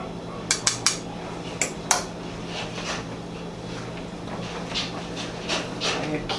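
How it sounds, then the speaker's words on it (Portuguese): A spoon stirs meat sauce in a pan, giving a few light metallic clinks and scrapes early on over a steady low background hum, then softer scraping that continues to the end. "Aí vou dar uma mexidinha."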